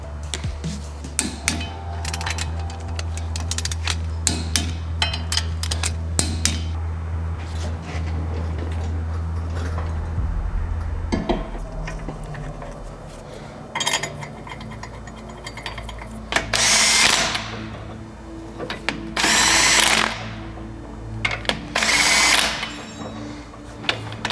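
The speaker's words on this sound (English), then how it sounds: "we're gonna go ahead and torque them down to 80 foot-pounds" A power tool runs nearby while car wheel nuts are tightened to 80 foot-pounds on a Dynojet Vector-X 4000 hub dyno setup, with repeated short mechanical bursts, a steady whir, then several loud air-driven blasts.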